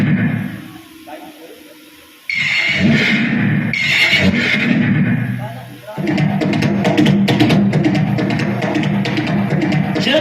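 A horse neighs loudly amid people talking during a Bhagavat Katha recitation in Janaura village, Bulandshahr, its whinnies rising over the speech.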